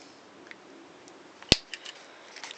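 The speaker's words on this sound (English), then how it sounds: "snip off the old lead." Wire cutters snip an old resistor lead during a lamp conversion, one sharp loud close cut followed by a few faint ticks of handling.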